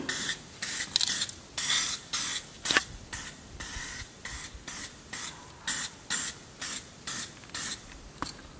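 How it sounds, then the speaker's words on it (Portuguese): Short hissing bursts of spray paint from an aerosol can fitted in a spray gun handle as the trigger is squeezed, roughly a dozen close, rhythmic pulses with brief gaps, no voices. "Depois é só carregar ali no gatilho e pintar."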